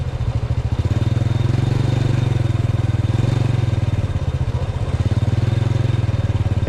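A small motorcycle engine runs steadily on a morning road trip in rainy weather, a close, loud, even throbbing drone with a rapid pulsing beat that holds nearly constant throughout.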